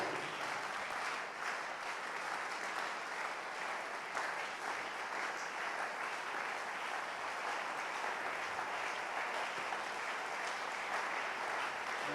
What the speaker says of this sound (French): J'attends que tu acclames le Seigneur.